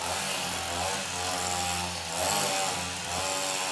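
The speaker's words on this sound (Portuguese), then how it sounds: "Cortando a grama." A grass trimmer cuts a backyard lawn during a yard cleanup, its motor a steady, loud, continuous whine that dips briefly and surges again, with no talk over it.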